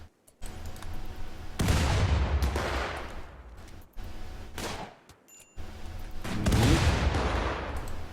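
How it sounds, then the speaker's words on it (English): Grenades go off in the RimWorld video game as a series of heavy, rumbling blasts in bursts with short gaps between, mixed with crackling gunfire. "That's a lot of grenades."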